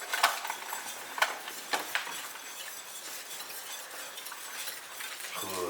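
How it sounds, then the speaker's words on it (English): Red enchilada sauce being stirred in a pan, with a utensil scraping and clinking against the pot in several sharp taps, then a quieter steady swirl of thick liquid over a faint sizzle. "Keep stirring."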